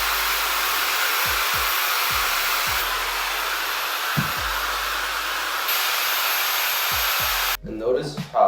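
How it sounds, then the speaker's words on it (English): A blow dryer runs continuously at a loud, steady hiss while drying hair at the roots, with soft knocks from handling; it cuts off near the end and a voice begins speaking. "as I'm blow drying this, I'm just hitting the roots slightly so it can expand in weight"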